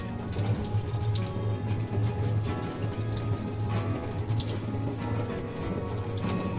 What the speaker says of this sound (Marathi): आता हा बांगडा असा स्वच्छ धुवून याची घाण काढून घ्यायची आहे